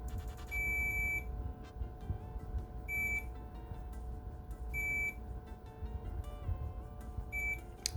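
A multimeter on continuity mode gives four short, high-pitched beeps at intervals while probing a Game Boy link cable during soldering work, against a quiet background hum.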